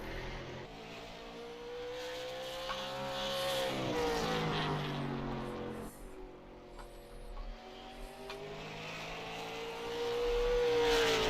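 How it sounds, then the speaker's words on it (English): The number 32 race car runs a solo lap at Myrtle Beach, its engine a steady droning roar whose pitch rises and falls through the corners, heard from a moderate distance and growing louder toward the end, without talking. "So it looks like we're going to have another car out on track. This is the 32 of Edwards. completing his first lap here."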